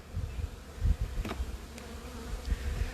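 Honey bees from a captured wild hive buzz in a soft, wavering drone, with individual bees passing close by in brief louder hums.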